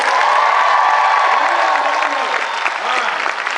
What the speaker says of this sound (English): Clap if you believe we're in a celebration.